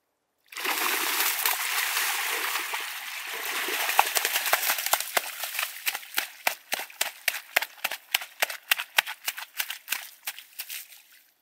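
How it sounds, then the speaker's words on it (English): A king salmon flopping on a riverbank shore, first a loud continuous splashing burst, then a long run of sharp separate slaps and splatters that grow quicker and fainter as it thrashes, with no talk. "Just witness this guy going nuts, flopping up on shore."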